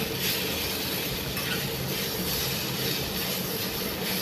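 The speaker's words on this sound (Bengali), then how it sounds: "এবার ভালোভাবে মশলাগুলোকে নেড়ে চেড়ে নিচ্ছি।" Spices with ginger paste, green chili and chopped tomato are stirred in a hot pan, a dense continuous sizzle with faint rhythmic scraping strokes, close and moderately loud, no talking.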